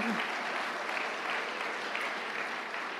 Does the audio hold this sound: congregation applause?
yes